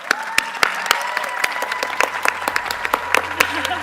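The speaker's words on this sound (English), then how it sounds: "Please, everyone, give a big applause to the Tourism and Hospitality class." Applause from a closing-ceremony audience for a graduating tourism and hospitality class, dense continuous clapping with sharp individual claps standing out, fairly close and loud throughout.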